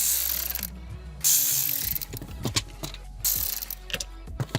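Electric ratchet spinning out 7mm fuse box bolts on a 2022-2025 Silverado or Sierra 1500: several short, close mechanical whirring bursts separated by brief pauses and light clicks of the socket.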